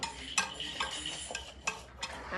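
Spoon scraping the peel of a dry ridge gourd, giving a handful of short, close, rasping strokes in an uneven rhythm, quiet and without talk.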